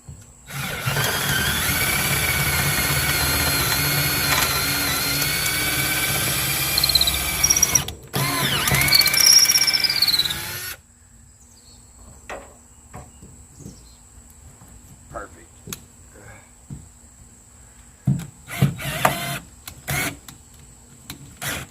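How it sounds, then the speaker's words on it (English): A power drill with a larger bit bores into a boat seat, a loud steady whine running about ten seconds with a brief pause, then quieter clicks, knocks and short handling bursts. "Alrighty, went up a size in the drill bit."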